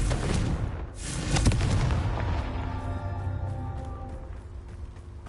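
Confringo blasting spell explosions from Hogwarts Legacy: a loud burst of booming blasts near the start, then a rumbling, fading tail with some ringing tones.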